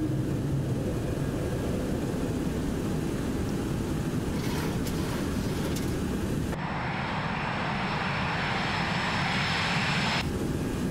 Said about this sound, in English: Love the sound of those engines.